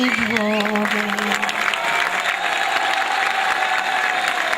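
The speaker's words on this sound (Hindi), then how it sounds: "एक बार पूरा सदन जोरदार तालियों के साथ में विदाई दे" Audience at a poetry recital applauds loudly, steady dense clapping filling the hall from start to finish, with faint voices in the crowd and a brief tonal sound at the start.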